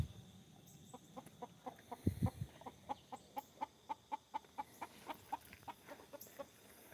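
A chicken clucking in a steady, evenly spaced series of soft clucks outdoors, fairly close but quiet, with a brief louder squawk near the start.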